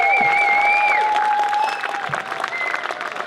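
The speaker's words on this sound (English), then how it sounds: "Can we have a round of applause for Mr. Graham Linehan?" A comedy show audience in Edinburgh claps steadily, with whistles and cheers rising over the applause before it begins to thin out.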